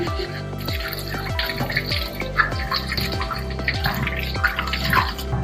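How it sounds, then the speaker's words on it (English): Apples are washed under a running tap, with close, steady splashing and dripping water and intermittent handling noises. "it's also good to wash the fruits thoroughly. I use a bit of soap when washing."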